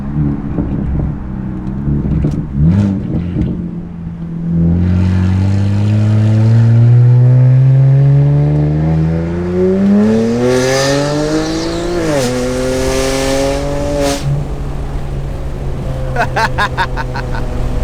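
A loud, raspy BMW 335i with a straight-piped exhaust revs up through a rising pull, its exhaust roaring and climbing in pitch, then dropping to a rumbling idle with brief crackles.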